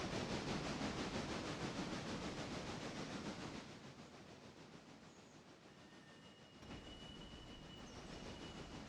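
A locomotive rolling along in the train video game Railroader, a steady rumbling wash of rail noise with faint wheel squeal that dips partway through and then swells back, with no talk over it.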